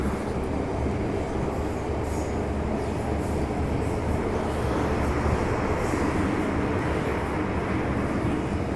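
A Hong Kong MTR subway train rumbles along at steady speed, a continuous loud roar with faint high squeals above, no voices.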